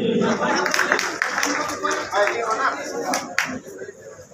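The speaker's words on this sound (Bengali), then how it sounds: "হাততালি।" An audience claps at an election discussion meeting of Gazipur business people, a dense patter of hands that runs steadily under overlapping voices and crowd chatter.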